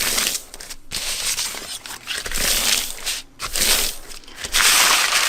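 Paper is crumpled loudly and up close in several vigorous bursts, crackling and rustling with brief pauses between handfuls.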